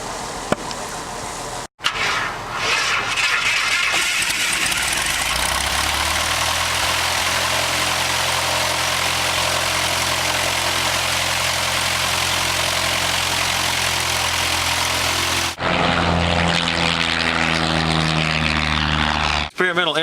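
A propeller airplane engine idles and runs steadily at close range, a loud continuous droning hum that stays level throughout, with a brief break, while small aircraft are giving rides at a 4-H science fair with the Experimental Aircraft Association.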